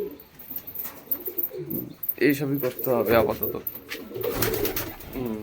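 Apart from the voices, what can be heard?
pigeons cooing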